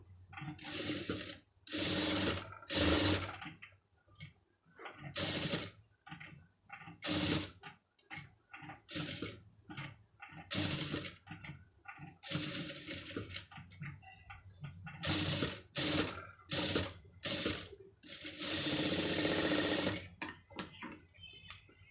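Domestic sewing machine stitching a sleeve piece for a simple sleeve design, running in repeated bursts of fast mechanical whirring separated by short pauses, fairly close and loud, with no talk.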